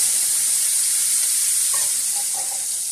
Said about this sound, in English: I've taken the same pan I boiled my noodles in and heated up about 2 tablespoons of avocado oil. And to that, I'm going to add our celery and onion.